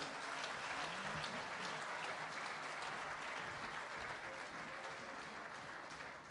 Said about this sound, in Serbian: Ajde, jedan aplauz.